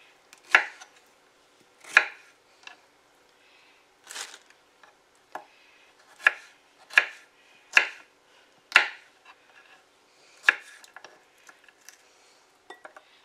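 A knife chops red pepper on a wooden cutting board in about a dozen sharp, close taps at an uneven pace, separated by quiet gaps, with no voices.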